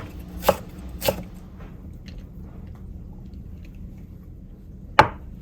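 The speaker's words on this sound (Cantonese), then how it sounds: "薑我都切" A kitchen knife shreds fresh ginger for steamed sea bass, with three crisp chops on a board, two in quick succession and one more after a pause, against quiet room tone.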